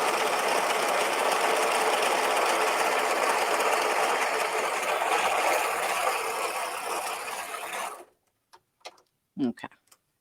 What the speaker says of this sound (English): So with this one pass, we just stitched the band to the top and the little trim insert.